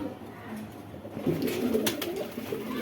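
Pakistani Giribaz pigeons give low, soft coos close by, a few murmuring calls over quiet background noise.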